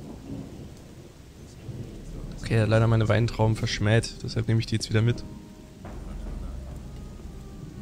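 Steady rain with rumbling thunder in the video game Gothic, a continuous hiss in the background while someone talks over it for much of the time.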